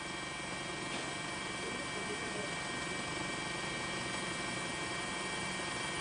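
Steady, loud rotor and engine roar of a news helicopter over tsunami-hit Sendai, Japan, constant throughout with no pauses and no voices.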